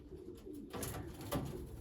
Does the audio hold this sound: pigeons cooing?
yes